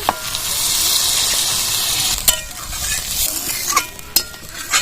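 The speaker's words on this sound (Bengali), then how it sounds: "আলুর সাথে ভালো করে মশলাটা কষিয়ে নিয়ে" Steady sizzling of a spice paste frying with potatoes in a pan for a fish kalia, with occasional scraping and clinks of a spoon stirring through it.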